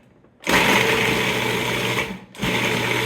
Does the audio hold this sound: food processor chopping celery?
yes